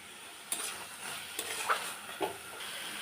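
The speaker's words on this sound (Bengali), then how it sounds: "নারকেল চিনিটা ভালো করে মিশিয়ে নেব" Coconut and sugar stirred into a chutney in a pan, soft scraping strokes with faint sizzling and a few light clinks of the spoon against the metal, quiet and close.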